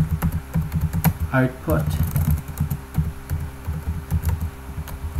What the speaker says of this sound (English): I'm going to type Monte Carlo